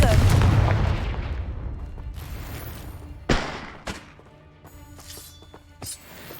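The Confringo fire blast spell goes off in Hogwarts Legacy with a loud explosive burst that decays into rumbling. A few sharper blasts and impacts follow against ambient game sound.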